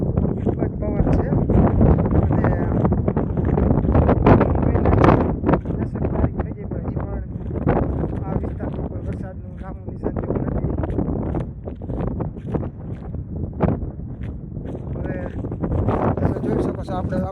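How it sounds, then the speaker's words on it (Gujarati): Strong, gusty wind across an open cotton field, a continuous loud roar buffeting the microphone with rustling bursts and steady blustery surges throughout. "અને તમે પવનનો અવાજ પણ સાંભળી રહ્યા છો. ખૂબ જ સુસવાટા મારે છે, ખૂબ જ પવન છે."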